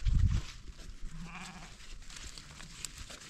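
Goats out on a high mountain meadow during a herding outing, with faint bleats mixed into a breezy outdoor background and a brief low thump at the start; no speech.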